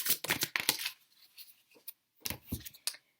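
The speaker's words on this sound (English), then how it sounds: "as I was just shuffling to get the cards in sync" Crisp, rapid fluttering bursts of playing cards being shuffled, a long run followed by shorter flurries, heard up close with no voices.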